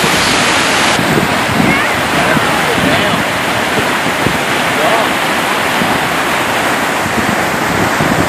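Wind buffets the microphone beside a flooded river downtown, across from a fish ladder, a loud continuous rushing roar mixed with water noise that never lets up.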